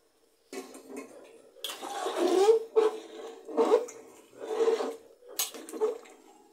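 Pumpkin and new potatoes tumble into a pot of khichuri, making a series of loud, close scraping and rattling bursts against the metal with brief pauses between them.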